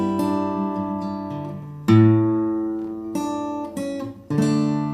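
Acoustic guitar sounding a low A bass note, struck several times at an unhurried pace so each note rings and decays before the next, played alone and close with no talking.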